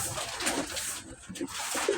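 Several white pigeons in a backyard coop give low rolling coos, a few calls spaced across a couple of seconds, fairly quiet and near, with no speech.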